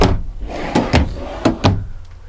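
Full extension storage drawers in a pre-owned 2011 Keystone Laredo 298RE RV open and close with four or five sharp, close wooden knocks and slides in quick succession, loud with no talking.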